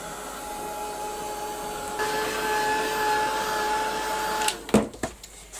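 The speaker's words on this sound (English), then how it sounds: "I'm going to give it a quick blast with the heat gun." A heat gun blows on a canvas tote bag, giving a steady, fairly quiet whirring hiss with a faint tonal whine that rises slightly partway through, then cuts off and leaves a few soft handling knocks.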